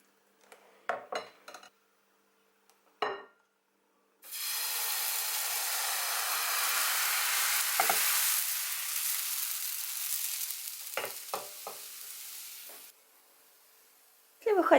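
Pancake batter poured into a hot frying pan on the stove, a few utensil clinks and scrapes before a bright, steady sizzle that runs for several seconds and then fades, with more clinks afterward.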